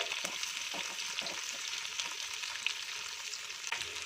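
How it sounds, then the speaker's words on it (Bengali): Potatoes frying in oil in a pan over a medium gas flame, giving a steady, soft hiss of sizzling with faint crackles throughout and no talking. "আলুটাকে আমি 5 মিনিট সময় ধরে ভেজে নেব।"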